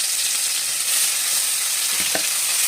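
Hilsa fish pieces fry lightly in hot oil for sorshe ilish, a loud, close, steady hiss and sizzle with a couple of soft clinks near the end, no talking.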